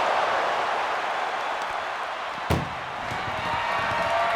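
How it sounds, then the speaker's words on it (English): A single sharp slam cuts through a steady roar of noise midway, a heavy ambulance door banging shut over constant background din, in the wrestling video game WWE 2K25. "Trying to force the first door closed."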